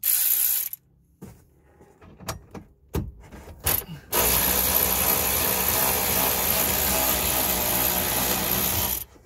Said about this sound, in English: put the ratchet in the right direction